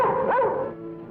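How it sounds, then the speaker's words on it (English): A hunting dog gives a single close, loud bark that trails into a whining yelp, with no talk over it. "The other man had a hunting dog."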